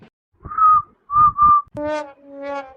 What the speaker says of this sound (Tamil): எதுக்கு இப்ப விசில் அடிச்சு கூப்பிட்ட